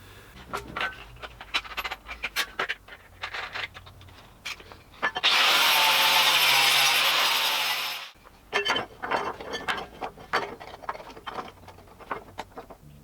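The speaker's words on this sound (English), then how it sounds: "I'm just going to clean these all up with the die grinder and a little bit of sanding" A loud, steady high-pitched grinding whine of a die grinder runs for about three seconds, bracketed by scattered scraping, sanding and clattering of metalwork, while cleaning up welded exhaust collector parts.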